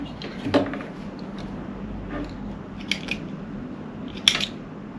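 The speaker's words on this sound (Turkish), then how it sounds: "Şu an perlonda olan ipleri kesiyorum" Scissors snip through the stitched cords of a perlon strap on a paragliding GoPro leg mount, giving a few separate sharp cuts at close range against quiet background noise.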